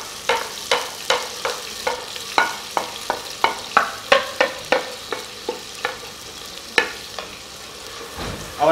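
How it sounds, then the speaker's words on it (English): Onions dropped into hot oil with chilies, ginger and garlic sizzle while being stirred, with a steady run of close scraping spoon strokes over the frying. "And then I want to add the onions to the oil."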